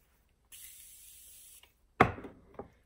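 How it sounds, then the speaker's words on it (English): A single short, fine hiss of Morphe makeup setting spray lasts about a second, followed by a soft clack and a faint rattle in an otherwise quiet room. "I'm going to spray that with my Morphe setting spray."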